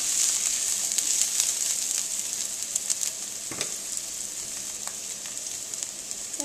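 Mee goreng ingredients fry in a pan on the stove, a steady bright sizzle with occasional clicks and scrapes of stirring, close up and with no voices.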